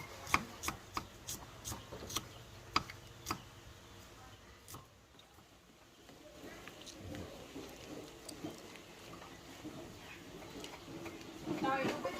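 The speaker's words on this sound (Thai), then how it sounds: "ขั้นตอนต่อมาเนาะเขาก็สิมาซอยหอมเอาไปเจียวเนาะ" A knife slices shallots for frying on a board, a quiet run of crisp, evenly spaced chops that fades into softer cutting, with voices talking faintly in the background.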